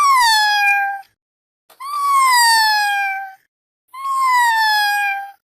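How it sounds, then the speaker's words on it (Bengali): A cat gives three loud, drawn-out meows, each about a second long, separated by short silences. "মিউ মিউ করছিস কেন?"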